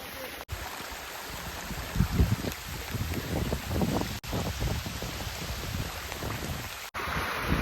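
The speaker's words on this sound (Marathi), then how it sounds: "फुल पाऊस पाऊस म्हणजे पाऊस नुसतंच पाऊस" Heavy monsoon rain pours steadily close by at Korigad fort, splashing and pattering loudly with a few brief cuts, no voices over it.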